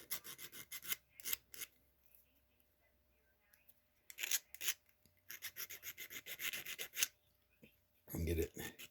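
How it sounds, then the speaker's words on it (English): Flat metal file rasping around the edges of a handmade jewelry piece to remove burrs, heard in bursts of short rhythmic strokes separated by quiet pauses, close and fairly loud. "I'm gonna use my handy dandy flat file"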